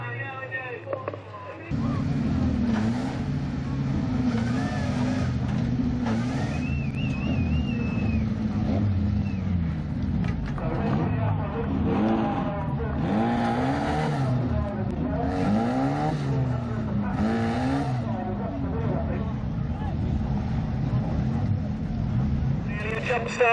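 Race cars roar around the oval at Standlake Arena, engines droning and revving steadily as they head into turn one, with a commentator talking over the racing throughout.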